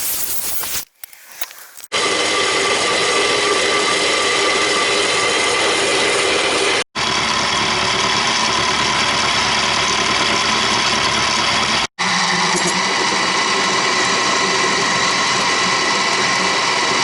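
Drill boring holes in metal for a lawn mower chassis, a loud continuous mechanical whir in long sustained runs broken by short pauses, close up.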